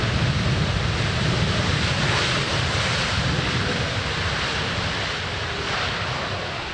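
An airliner landing at Amsterdam Schiphol roars with a broad, continuous, rushing reverse-thrust noise that holds steady and slowly eases, heard from a distance without voices.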